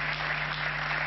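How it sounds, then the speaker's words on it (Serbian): Studio audience applause on a Serbian television talk show, a dense, even wash of clapping that holds steady at moderate loudness for the whole moment, with no voices on top. "Daj jedan aplauz, ohrabrite."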